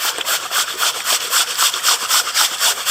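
Creek gravel being sieved for sapphires, with a steady rhythmic swishing and rattling of stones and sand shaken in a sieve, close and continuous with regular pulses about every quarter second.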